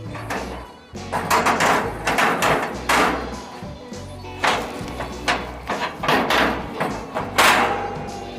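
A metal smoke box loaded with wood chips is set beside the grill grate of a Monument Grills Eminence 605, giving a close series of clanks, thuds and metallic scrapes.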